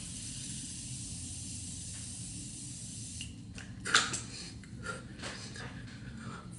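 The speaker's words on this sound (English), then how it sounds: "let me get my setting spray" Makeup setting spray misted from a bottle, a few short airy hisses near the end, the loudest a brief close burst after a quieter stretch of background noise.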